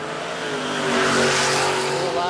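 No-prep drag racing car launching at Warwick Dragway in Australia, a loud close engine roar that builds and rises in pitch, with tire noise and a commentator talking over it.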